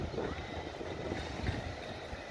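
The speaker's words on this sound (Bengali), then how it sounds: "সমুদ্রের গর্জন শুনতে পাচ্ছেন" Sea surf at Cox's Bazar beach at sunset gives a steady, low, broad roar that stays fairly faint and continuous, with no clear voices over it.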